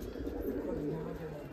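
Soft cooing of young pigeons close by, low murmuring coos running steadily over a faint background hum.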